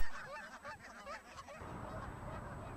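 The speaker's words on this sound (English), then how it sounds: "These are lesser Canada geese." Lesser Canada geese honking outdoors, a flurry of repeated nasal honks overlapping at first, then fading into a softer background of distant calls and ambient noise.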